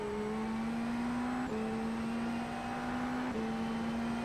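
Dallara IL-15 IndyNXT race car engine in the iRacing sim at Virginia International Raceway, a steady high-pitched engine drone with quick pitch drops at gear changes, loud and continuous without talk.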